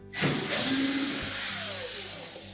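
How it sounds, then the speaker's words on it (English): A power drill whirs as it backs screws out of the top panel of a Samsung washing machine, a sharp motor spin-up followed by a sustained steady whine, close and loud. "It's held in place with 2 screws, one on either side. Just remove those."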